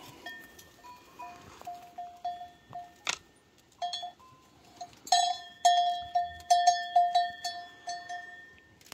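Goats drawing near with bells clanking, a string of bright metallic rings and jangles that start sparse and distant, then grow closer and busier as the herd arrives, with no talk.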